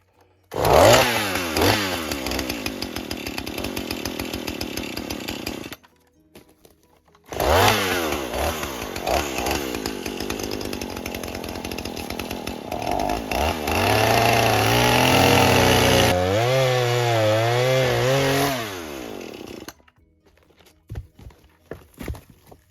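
An old Husqvarna chainsaw cuts big logs outdoors at an off-grid cabin. Two long, loud, revving cuts are separated by a brief pause, and the saw sputters at idle at the end.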